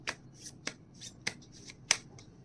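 Oracle cards being shuffled by hand, a few short quiet riffles and snaps spaced irregularly, close up and alone with no talking.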